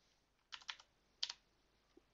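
A computer keyboard is typed on in a quiet room: a quick burst of about four clicky keystrokes, a brief pause, two more taps, then one faint final tap.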